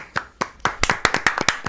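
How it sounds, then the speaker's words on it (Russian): An audience at a fight press conference applauds a fighter. Sharp, close hand claps start sparse and quickly settle into a steady, quickening rhythm. "Аплодисменты."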